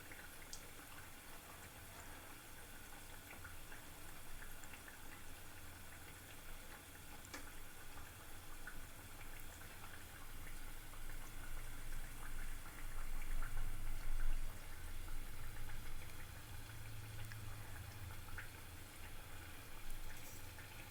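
Green gram paniyaram batter, mixed with black rice and urad dal, frying in oil: a soft, steady sizzle and bubbling hiss that runs throughout and swells slightly midway, close but fairly quiet, with no talking.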